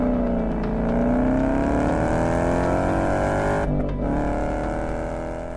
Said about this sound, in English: Another unique trait of the Coyote is its revving characteristics.